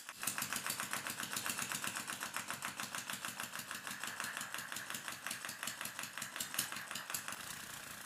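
A water-driven membrane air engine runs steadily, giving off a fast, even series of mechanical clicks and puffs, several per second, close up and fairly quiet.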